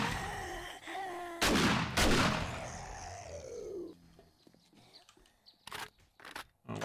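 Gunfire at zombies in the 7 Days to Die video game, with two loud, booming shots in quick succession followed by a long, fading ringing tail and a few scattered impacts and clicks.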